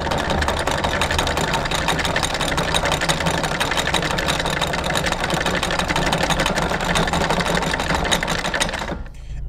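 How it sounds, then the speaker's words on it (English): An anchor windlass on a Hanse 548 sailboat raising the anchor chain: a steady mechanical whir and rattle runs continuously for several seconds, loud and close, then cuts off abruptly. "To raise the anchor, press on the up button."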